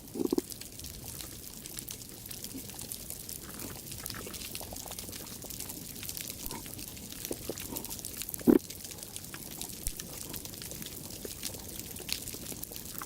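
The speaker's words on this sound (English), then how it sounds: "The source of the cooing was easily identified, a huge moray eel." A huge moray eel makes low cooing and grunting calls, heard through an underwater microphone near a corkscrew anemone and shrimp. Two stronger calls stand out against a constant crackling reef background.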